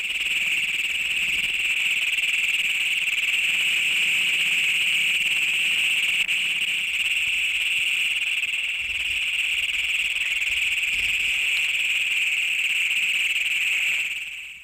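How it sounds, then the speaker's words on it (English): Breeding call of the widely distributed Great Plains toad, Bufo cognatus: a loud, continuous high metallic trill held steady for about fourteen seconds without a break, standing alone over faint background. "This is a breeding call of the widely distributed Great Plains toad"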